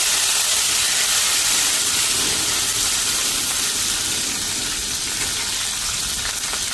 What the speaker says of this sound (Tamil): இங்கால எண்ணெய் சூடாயிட்டு கடுகு சேர்க்கிறேன்.